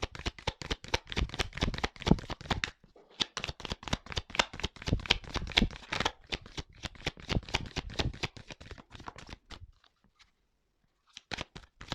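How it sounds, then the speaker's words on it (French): A deck of tarot cards is shuffled by hand up close in rapid, dense riffling bursts. The card sounds stop briefly at about ten seconds, then a last short flurry follows. "Je vais prendre qu'une carte, mais je vais en prendre une deuxième."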